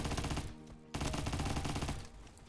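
Rapid close-range hipfire bursts from a Kriss Vector submachine gun in the Roblox shooter Bad Business, two dense volleys of fast automatic shots separated by a brief pause, loud and up front.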